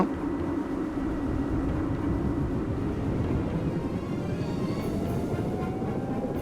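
A steady, loud aircraft turbine engine roar in a flight video game, with a broad rumbling whine and a slowly rising turbine tone as the turbines start, continuous and without pauses.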